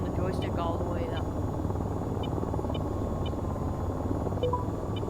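Helicopter in a video game flying with a steady, dense rotor drone that fills the whole clip, loud and continuous, with faint high electronic blips recurring over it.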